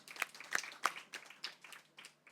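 Audience applause at a capacity building workshop, faint and sparse, with a few distinct claps standing out at first before thinning into light scattered clapping that trails off.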